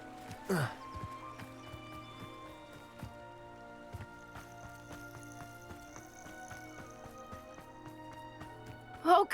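A horse in the video game Hogwarts Legacy snorts or whinnies in short bursts at the start and the end. Soft hoof clops and quiet ambient game sounds fill the gap between them.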